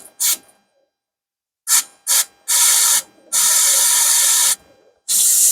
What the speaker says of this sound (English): Should be able to see the brake cleaner come through that hole.